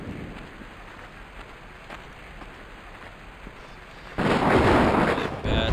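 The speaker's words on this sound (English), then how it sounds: "Really bad thunderstorm." Thunderstorm in the video game Survival Craft: steady rain hiss is broken near the end by a sudden loud, deep thunder rumble that swells and then cuts off, with no speech.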